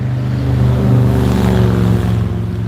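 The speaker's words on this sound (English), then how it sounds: "That was a loud truck." A loud truck engine passes close by, its deep harmonic drone swelling to a peak and then easing off steadily, with no talk over it.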